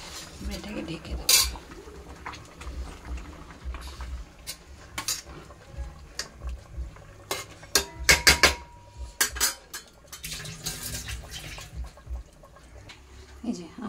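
Metal clanks and clatters from a cooking pot for steamed chicken biryani as it is handled and covered with its lid, several sharp knocks, clustered mid-way, amid quieter kitchen sounds and some faint talk.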